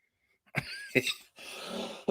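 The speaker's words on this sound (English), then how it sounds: "That deserved a cough" A single close cough with a rough, throaty burst, followed by a longer breathy exhale, standing alone in an otherwise quiet room.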